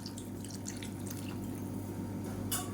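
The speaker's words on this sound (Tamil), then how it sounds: "இப்போ இந்த ஸ்டேஜில் பார்த்திங்கன்னா கொண்டக்கடலை வேக வச்ச தண்ணி இருக்குது அதையும் சேர்த்துக்கலாம்" Cooking water from boiled chickpeas pours into a pan of channa masala, giving a soft, steady splash and trickle with faint drips, quiet and close.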